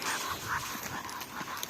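Dogs out in the mountains, heard as faint scattered sounds and light movement against a steady background, close by and without talking.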